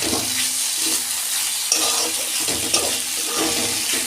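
Drumstick (moringa) stalks fry with spices in a pan, giving a loud, continuous sizzle broken by a few scraping stirs of a spatula.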